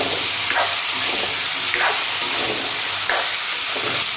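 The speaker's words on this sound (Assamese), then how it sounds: "চব একেলগে দি এতিয়া ভাজিম অলপ।" Potatoes and eggplant frying together with turmeric in a pan give a steady, close sizzle, broken by a soft stirring scrape about every second and a half, with no talking.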